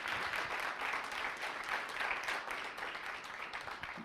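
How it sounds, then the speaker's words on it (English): Audience applause fills a town hall gathering of teachers on immigration, a continuous dense clapping that holds steady for a few seconds and fades slightly at the end. "Let's give them all a round of applause."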